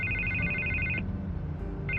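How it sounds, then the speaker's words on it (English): A telephone rings in the Batman Telltale Series video game, a bright electronic trill lasting about a second, a pause, then ringing again over a low ambient hum. "I can't get the phone to stop ringing."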